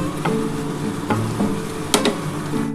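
Prawn malai curry gravy bubbling in a pan, a steady close simmering hiss broken by a few sharp scraping stirs and clinks.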